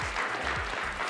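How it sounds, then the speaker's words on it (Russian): Audience applause in a Kazakh TV game show studio, a dense steady wash of clapping filling the whole short moment with low rumbling underneath. "Аплодисменты."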